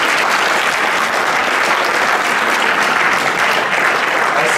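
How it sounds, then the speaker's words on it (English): Applause from the audience at a hackathon's closing ceremony, loud and sustained, a dense even clatter of many hands with no speech over it. "Another huge round of applause for them."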